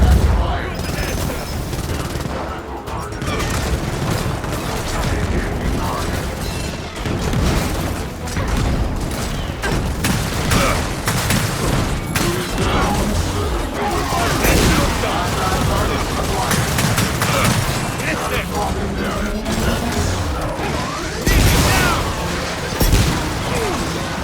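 Sustained gunfire and bursts of machine-gun fire with booms during a Gears of War 4 firefight, loud and dense throughout, with voices talking over the shooting.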